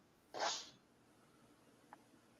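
A single short sneeze bursts out at moderate volume against quiet room noise, followed by a faint small click a moment later.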